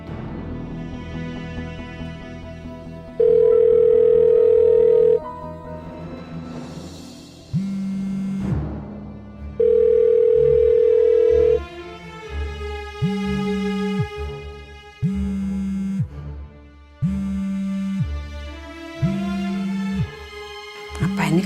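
Outgoing telephone call ringback tone, long steady beeps in pairs repeating at regular intervals over a soft music bed, with a voice at the end of the clip.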